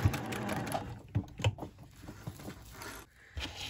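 Sewing machine stitching a quilted potholder, soft intermittent bursts of needle clatter with brief pauses between runs, faint and close.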